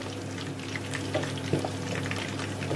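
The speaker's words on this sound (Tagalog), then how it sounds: "Paliguan lang natin ng paliguan ng mantika guys na kumukulo para suabe" Hot oil sizzles and crackles steadily with scattered pops and spatters as a pork leg for crispy pata deep-fries, close by, indoors, the bubbling texture continuous throughout.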